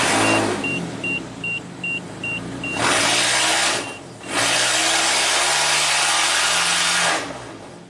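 A 2008 Suzuki SX4 with a low-power fault is run and revved, giving two sustained bursts of engine roar that fail to climb, separated by a short drop, after a few faint electronic beeps.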